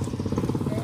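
A motorcycle engine idles close by with a steady, low, pulsing throb that runs through the whole short moment.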